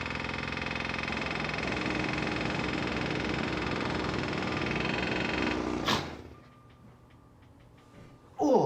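Electric drill drilling steadily, a continuous droning whine with a fine rattling texture that runs for about six seconds and then cuts off into near quiet, with a faint thump at the very end.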